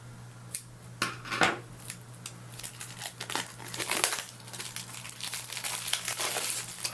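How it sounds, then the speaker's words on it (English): Cellophane being unwrapped from a tarot deck, close crinkling and crackling in irregular bursts with small tearing rustles, fairly quiet over a faint steady hum. "We've got more cellophane here, so let me just get into that."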